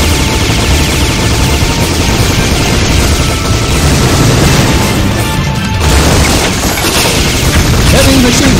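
Heavy machine gun fire from the arcade game Metal Slug, a dense, continuous loud barrage of rapid shots layered with game explosions and effects throughout, with no pause.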